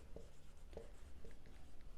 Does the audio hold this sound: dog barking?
no